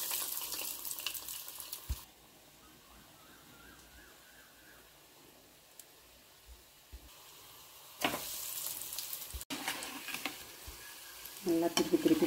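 Breaded potato cheese balls fry in oil, with a crackling sizzle that bursts at the start, drops to a quiet stretch, then returns stronger near the end alongside a brief squeaky note.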